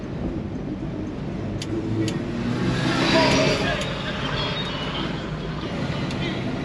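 A 1957 Chevy Bel Air two-door hardtop pulls away in first gear, its engine a steady low rumble heard from inside the car, with a person speaking over it.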